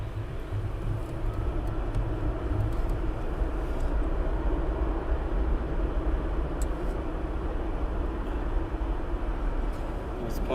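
A FedEx aircraft departing East Midlands Airport at night, a continuous moderate engine rumble and roar heard from a distance, steady and unbroken.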